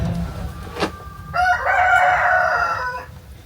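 A rooster crows once, loud and near, in a tunnel enclosure holding hens and roosters, preceded by a short clucking call.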